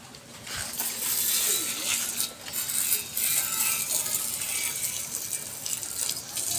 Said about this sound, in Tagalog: Babad sa tubig.